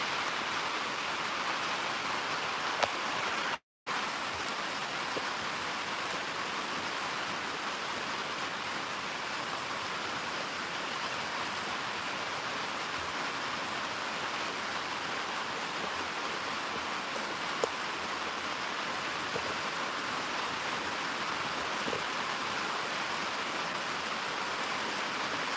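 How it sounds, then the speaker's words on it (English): Loud rain pours down in a constant, even hiss that runs without a break, except for one very brief dropout near the start. "It's raining. And it's probably really loud"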